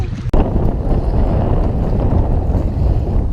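Strong wind blowing across a lake during bass fishing from a boat, roaring as a loud, continuous rush against the microphone with one sharp knock near the start.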